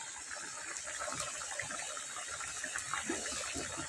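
Rohu fish pieces go into a boiling curry with green banana, and the curry gives a quiet, continuous bubbling and watery hiss heard alone.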